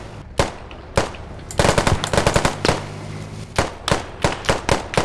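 Loud gunfire in a shooting video game: single sharp shots, then a dense rapid automatic burst, followed by more spaced shots in an irregular rhythm, close and dominant with no talking.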